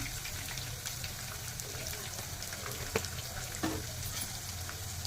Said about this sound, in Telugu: ఆయిల్లో ఇంగువ వేసుకోవాలి.